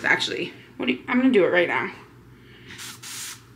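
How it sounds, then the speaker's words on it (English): A spray bottle of stain remover pumped onto a shirt stain, a couple of short hissing bursts near the end following close-up speech. "I'm gonna spray this up, and I think I'm just gonna spray it with this,"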